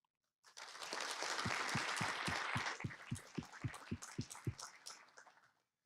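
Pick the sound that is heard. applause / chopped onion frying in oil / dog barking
applause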